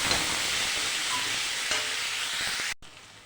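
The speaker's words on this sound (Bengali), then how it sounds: "এই মাছের তেলে একদম কম তেল দিয়ে ভাজতে হয়" Cauliflower and potato fry in fish oil with a steady, dense sizzle and occasional stirring scrapes, loud and close, before the sound drops off abruptly near the end.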